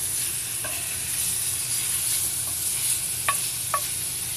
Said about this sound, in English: there's not really much else to do until the sausage starts to actually cook, so the prep work has already been done. We just kind of stir this around.